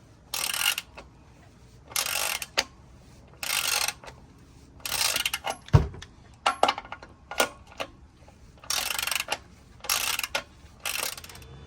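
A ratchet wrench works a 19 mm oil drain plug on a 2000 Volkswagen Golf 2.0L MK4, giving repeated close bursts of rapid clicking with short pauses and a single metallic clank midway.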